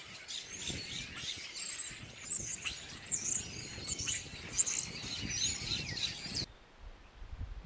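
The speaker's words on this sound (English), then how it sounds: "Birds are insane." Many birds chirp and trill at once in windy open country at the southern terminus of the Pacific Crest Trail, bright overlapping calls over a rumbling wind background that cuts off abruptly near the end.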